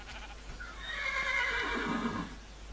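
A horse in the Minecraft video game lets out a single drawn-out whinny that rises and then falls, heard clearly over a soft steady background hum, with no talking.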